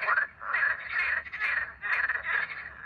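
Frogs croak in a rhythmic series of about five raspy, pulsing calls, fairly close and clear with brief gaps between them.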